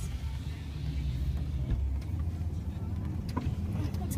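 Low, steady engine rumble and road noise come from inside a moving vehicle on a farm outing, with a continuous drone throughout.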